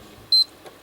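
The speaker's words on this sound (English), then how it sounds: "you need to hold down the power button until you hear like 3-4 beeps" A single short electronic beep from a PS3 console as its power button is held down, sounding once, clear and alone over a quiet background.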